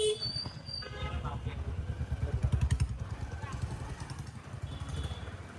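A motorbike rides off through busy traffic near the Dakor temple, its engine putting out a throbbing low pulse that rises and settles, with voices and other road noise around it.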